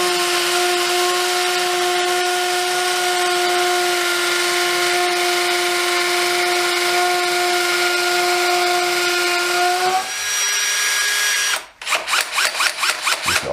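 A Hitachi DV18DBFL2 cordless drill whines loudly at a steady pitch while boring an 8mm hole into a wet wall, then the tone drops and stops before a burst of rapid rattling pulses.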